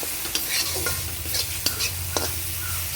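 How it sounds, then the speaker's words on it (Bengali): Spiced water added to masala frying in a pan for an okra and potato curry, a steady close sizzle broken by a few sharp scrapes of a spatula stirring it through. "এই মশলার জলটা এখানে দিয়ে দেব। ভালো করে নেড়ে চেড়ে এভাবে"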